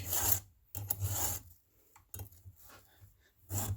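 A file strokes along chainsaw chain teeth to sharpen them in the backcountry, several separate raspy passes with short pauses between them, close and fairly quiet.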